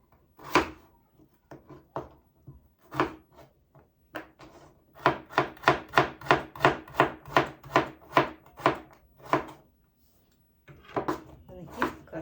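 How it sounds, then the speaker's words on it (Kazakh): Vegetables, potatoes among them, are chopped by hand with a knife on a board for a meat-filled pie: close, crisp, woody thuds, first scattered, then a quick regular run of about a dozen strokes, then a pause and a few more, with a quiet voice at times. "бүгінгі біздің етті бәлішімізге бәрін қолмен көбектап турап аламыз."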